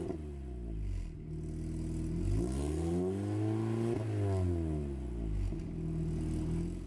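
A 2006 Mini Cooper S R53 with a Milltek non-resonated catback exhaust revs up and down repeatedly, its loud, raspy engine note rising and falling in several sweeping pulls with no talking.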